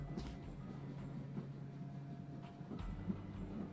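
Interior ambience of a train car in the game Code: Realize, a steady low rumble with soft rhythmic clatter and faint clicks, continuous and moderately quiet.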